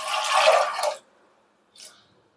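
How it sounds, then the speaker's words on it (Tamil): Water poured into a cooker over soaked chickpeas, a close splashing pour for about one second, then a brief faint trickle after a pause. "கடலை முங்குற அளவுக்கு தண்ணி ஊற்றிக்கணுங்க."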